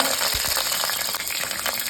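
Green chillies frying in hot oil with mustard seeds and urad dal, a dense, steady sizzle with a couple of low knocks from a spoon, close and fairly loud.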